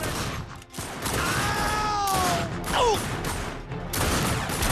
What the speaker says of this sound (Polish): Strzelanina w restauracji jest całkiem dynamiczna